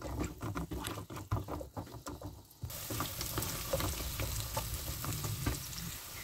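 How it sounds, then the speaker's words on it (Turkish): Chopped carrot and onion sautéing in oil in a pan for a Brussels sprouts dish, a soft crackling sizzle with scattered pops that grows denser and steadier partway through, close and fairly quiet. "Havucumuzu da 1-2 dakika kadar soteliyoruz."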